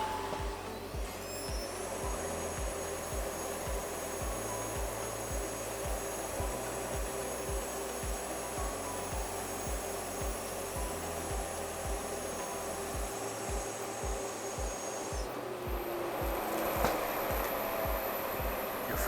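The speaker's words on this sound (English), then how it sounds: "So I prepare the machine already, and I'm starting the machine right now." A laser cutting machine runs steadily for adhesive tape cutting, giving a loud continuous mechanical drone with pulsing low thumps and high whine tones throughout, no voices.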